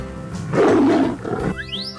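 A tiger in a 3D animal video game gives one loud, full-throated roar that swells and fades, followed by a short bright electronic chime.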